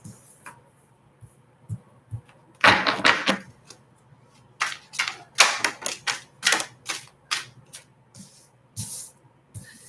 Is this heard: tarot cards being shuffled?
yes